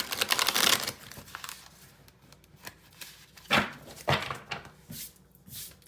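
Tarot cards being shuffled nearby: crisp riffling and flicking bursts, some brisk and sustained, others short, with soft shuffling between and no talking.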